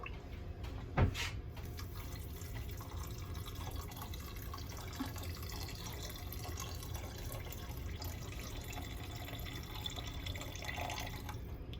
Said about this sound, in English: I'm also going to fill about half of a can of this with water